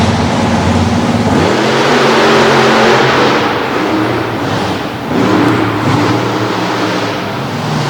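Monster trucks roar off the line at a Du Quoin, Illinois destruction event, engines revving loud and continuous with rising pitch sweeps, a dense mechanical growl filling the whole stretch.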